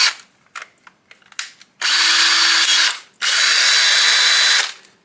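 A repaired Makita power drill is tested, with a few short clicks and brief triggers followed by two sustained high-pitched whirring runs, loud and close, with no talking.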